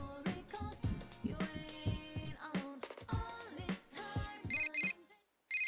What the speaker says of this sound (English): You received a text message.